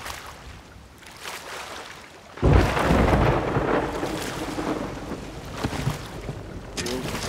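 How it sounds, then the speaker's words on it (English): A thunderstorm in the pirate sailing game Sea of Thieves: a sudden loud thunder crash bursts out and rumbles on with wind and rain, over quieter storm noise before it. "Ooh, there's lightning. Lightning."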